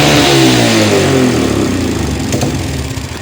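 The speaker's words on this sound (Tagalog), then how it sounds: "Subukan ulit natin i-high rev, hindi mawawala yung kuryente niya." A troubleshooting engine is revved hard to high RPM and then eases off, its loud, close mechanical roar gradually falling in pitch and level with no voices.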